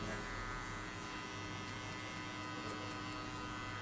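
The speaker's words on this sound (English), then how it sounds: "Close the clipper halfway." An electric hair clipper set to half-closed buzzes continuously during a buzzcut, a close, steady mechanical drone with a strong low hum that holds at an even level throughout without any talk.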